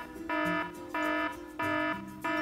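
A toy rescue vehicle's electronic alarm sounds in four loud, even bursts of steady buzzing tone, each lasting about a third of a second and separated by short gaps, with no talking.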